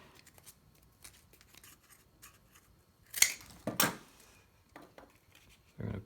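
Scissors cutting out cardboard for a cardboard circuit: a few sharp, close snips and crunches spaced over a quiet background, with two strong cuts near the middle and another toward the end.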